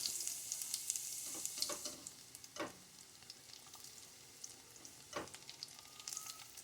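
Garlic frying in a pan for adobong talong, a Filipino eggplant dish, gives a faint, steady sizzle with occasional stirring scrapes and knocks close by.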